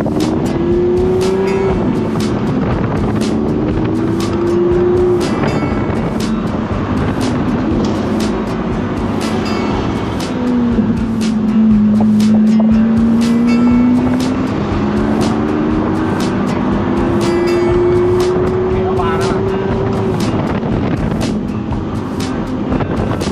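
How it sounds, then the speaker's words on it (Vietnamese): A car driving in heavy afternoon traffic, steady loud engine and road rumble with gentle pitch shifts as it creeps and accelerates, under constant wind buffeting and repeated clicking. "Chiều hay bị kẹt xe khúc này các bạn ha"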